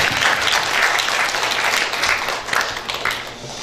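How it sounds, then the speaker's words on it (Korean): An audience in a wedding hall applauds a lecturer at a public talk for engaged couples, producing loud, dense, continuous clapping that swells and eases slightly but never stops. "큰 박수 한번 보내주세요"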